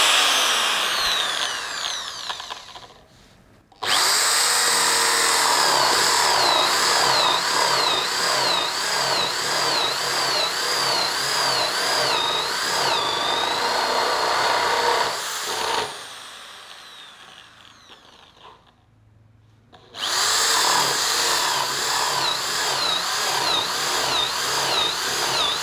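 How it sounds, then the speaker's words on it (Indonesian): A power drill fitted with a 32 mm Inco spade bit bores into wood, whining loudly at high speed in two long runs separated by brief pauses as the motor stops and restarts. "Kita akan tes dengan mata bor kipas. Ya, ini mata bor kipas 32 mili dari Inco juga."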